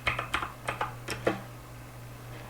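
A computer keyboard clatters as a prompt is typed, with a brisk burst of close keystrokes over roughly a second and a half, then near silence apart from a low steady hum.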